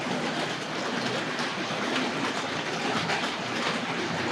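A Tri-ang Railways RS.2 express passenger set with its TC Pacific locomotive runs on the track, giving off a continuous close whirring rumble with a fine rhythmic clatter that holds steady and loud throughout.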